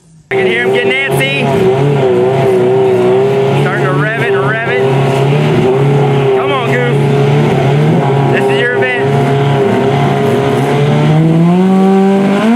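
A drag racing car idling and revving loudly at the track, a close, sustained engine drone that climbs in pitch near the end, with people talking over it.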